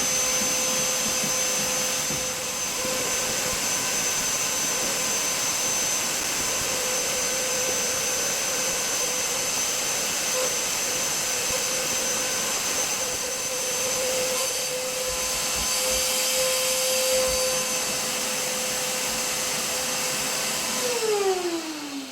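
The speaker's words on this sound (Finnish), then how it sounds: "minäpä jatkan tämän auton imuroimisen loppuun" A vacuum cleaner runs continuously inside a Mercedes car, a loud, steady whine with a high hiss and a hum that shifts slightly as the nozzle moves, ending with a falling pitch near the end.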